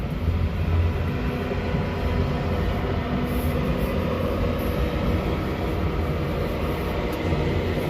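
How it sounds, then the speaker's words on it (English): A train runs along railway tracks where a maintenance crew is working, producing a loud, steady rumble that fills the entire stretch without pause or voices. "That's the train, the maintenance crew on the tracks."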